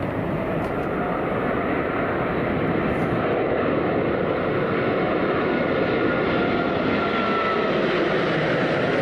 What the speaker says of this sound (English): There's no way that an Emirates jet would be going up there for any reason other than for a departure.